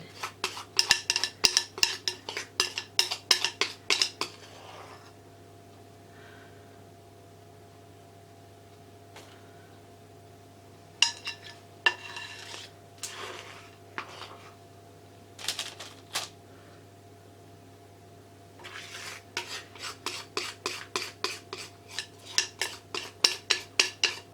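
Thick, sticky brownie batter from a Betty Crocker gooey salted caramel mix being scraped out of a bowl with a utensil, bursts of rapid clattering scrapes separated by quieter pauses, close by with no voices.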